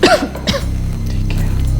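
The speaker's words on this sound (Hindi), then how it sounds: "फिक्र मत कीजिए, मामूली खांसी है" A person coughs in a doctor's consultation, a few close, rough bursts at the start followed by quieter breathy throat sounds.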